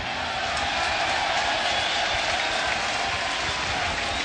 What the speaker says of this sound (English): a resounding cheer for Scott Graham, the home plate umpire